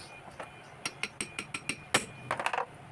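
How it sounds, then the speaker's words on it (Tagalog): Light hammer taps on an electric fan part, a string of sharp metallic clicks in an irregular rhythm, close by, with a brighter knock near the middle and a quick cluster at the end. "Dalawang pukpok lang ako. Mahina lang, hindi kailangan ng malakas na malakas."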